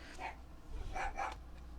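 Dogs bark somewhere nearby but not close, giving a couple of clusters of short, moderately faint barks over a quiet room hum.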